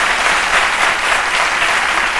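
A studio audience applauds on a live midday TV show, a dense, loud, steady wash of clapping that holds evenly throughout without any voices.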